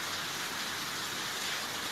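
Rain falling in Jaguarari, Bahia during a heavy downpour, a soft, even hiss of drops with no pauses and no voices.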